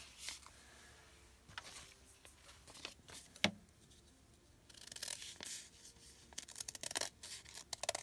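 Scissors snip through paper pieces in a quiet craft setting, soft crisp cuts and rustles arriving in irregular clusters, faint and close, with the paper shuffled and rubbed between cuts.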